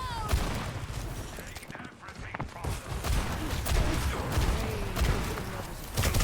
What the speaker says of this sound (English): Nice shots being applied by Mr. One Bullet here.